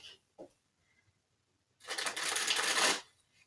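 A quick burst of a large tarot card deck riffling together, loud and close, lasting about a second after a few faint taps.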